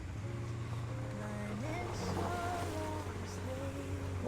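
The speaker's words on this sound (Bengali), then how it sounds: "ঝর্ণার জল, ওয়াটার ক্রসিং বাবু।" Rushing waterfall stream water at a motorcycle water crossing in Arunachal, with the low, steady throb of a 1962 Bullet engine idling close by and people talking over both sounds.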